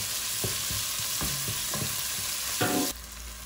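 Tomato purée cooking down in a pan for an egg biryani, a steady broadband sizzle with repeated soft spoon scrapes and stirring knocks, close and continuous until it quietens near the end.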